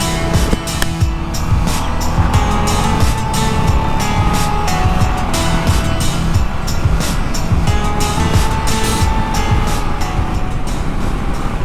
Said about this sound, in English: It feels so good, riding this bike